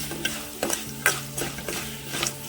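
Tempering seeds, chana dal, peanuts, green chillies, curry leaves and cumin sizzling in a pan for lemon pulihora, with a few sharp stirring scrapes over a steady low frying hiss.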